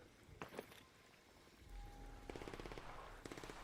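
Faint rapid bursts of automatic gunfire in a shooter video game, a short rattling volley followed by two more quick strings of shots, distant and low under a soft background.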